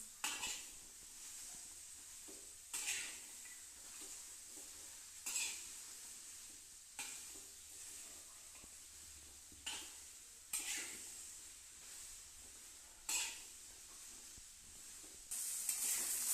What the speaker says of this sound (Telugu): ఇలా బెండకాయలు దీనిలో వేసుకొని ఇప్పుడు మనము దీన్ని బాగా వేంపుకుంటున్నాము.